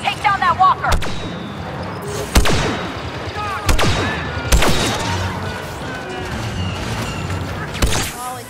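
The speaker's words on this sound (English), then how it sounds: "I'm assuming we need to use the rocket launcher on this guy" In the Star Wars Battlefront game, a rocket launcher fires at a walker. Several loud, sharp blasts come at spaced intervals over continuous battle noise, and other weapons crackle between the blasts.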